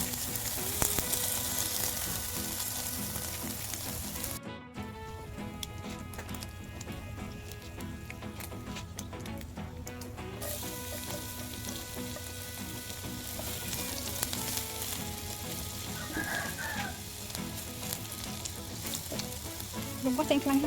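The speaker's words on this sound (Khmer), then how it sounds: "នៅពេលដែលខ្ទះក្តៅយើងដាក់ជាមួយនឹងសាច់ខ្លាញ់ជ្រូក" Pork fat sizzles and fries steadily in a hot pan, a dense crackling hiss that runs close and loud for the whole stretch, with a brief dip near the start and no voices.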